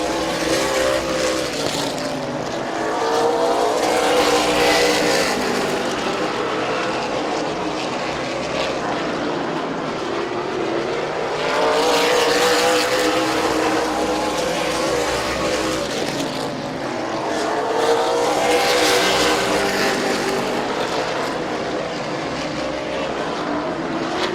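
Stock cars race at Midvale Speedway, their engines roaring in repeated waves as the pack sweeps past and fades around the oval, loud and continuous beneath a race announcer's commentary.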